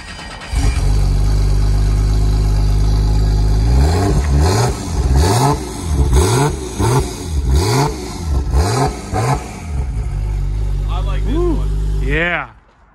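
Tuned car with a titanium Super Turbo exhaust revving hard several times in close succession, loud and near, rising and falling blips over a rumbling idle before settling, with people talking in the background.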